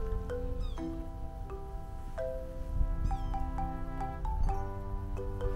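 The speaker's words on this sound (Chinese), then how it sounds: "这小猫已经跟了我们好久了，" A small cat in a New York park gives repeated short meows, about a dozen close-up calls at an irregular pace, over soft low rumbling background noise.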